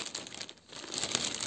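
Crisp plastic crinkling of a zip-lock bag, close and fairly quiet, with a short lull in the middle before the rustling picks up again.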